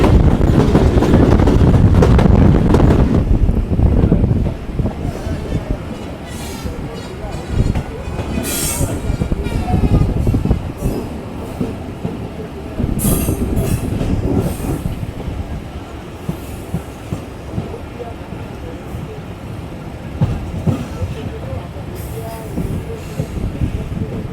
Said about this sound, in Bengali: এই প্রকৃতির মাঝ দিয়ে ছুটে চলছে আমাদের লোকাল ট্রেন মোংলা কমিউটার